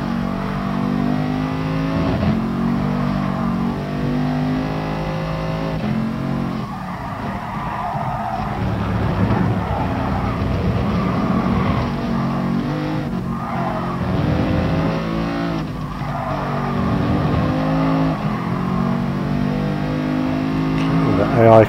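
Race cars in the GT Sport racing game, amateur league, drone and rev continuously with engine pitch rising and falling, tire skids and squeals mixed in, while someone talks over the racing throughout.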